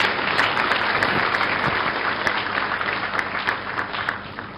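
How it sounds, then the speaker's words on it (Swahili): Sustained applause from a seated audience honours Uganda's President Yoweri Museveni at a Tanzania–Uganda business forum, a dense steady clatter of many hands lasting the whole span without talk. "Naomba kwa mara nyingine tena tumpigie makofi Mheshimiwa Rais tafadhali."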